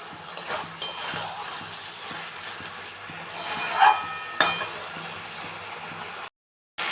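Coriander chicken curry being sautéed and stirred in a pan, heard as a soft, steady frying hiss with a couple of sharp spoon clinks against the metal partway through, all fairly quiet and with no talking.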